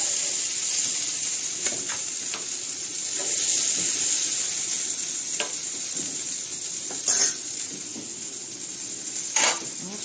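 Okra (bhindi) frying in a pan, a steady, close sizzle with occasional scraping and clinks as it is stirred and lifted out.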